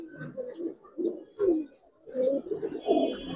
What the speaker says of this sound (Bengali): অনেক সুন্দর কবুতর